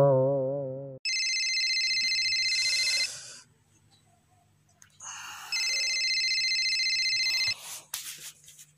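A phone ringtone plays loudly twice as steady electronic tones, with a short low melodic beep before it and quiet gaps between.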